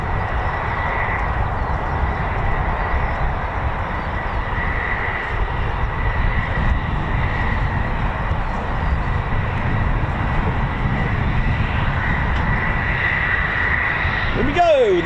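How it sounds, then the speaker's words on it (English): A Royal Saudi Air Force F-15SA fighter jet flies over RAF Waddington during Exercise Cobra Warrior, producing a loud, steady broadband roar that holds for the whole stretch, with faint voices beneath it. "Here we go, the F-15SA of the Royal Saudi Air Force."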